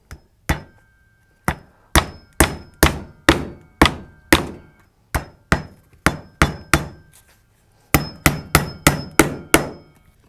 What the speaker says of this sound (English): So now I can just kind of hammer it down on those nails that are already there.